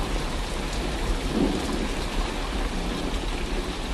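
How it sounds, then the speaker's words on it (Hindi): Heavy rain pours down in a thunderstorm with hail falling on crop fields, a dense steady hiss of drops with a low rumble of thunder swelling partway through, no voices. "कुछ ही देर में बारिश के साथ साथ ओले भी गिरने लगते हैं।"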